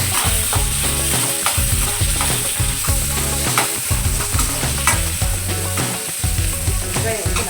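A ladle stirs small onions frying in oil for a village fish curry, with loud continuous sizzling and rhythmic scraping and clanking against the pan.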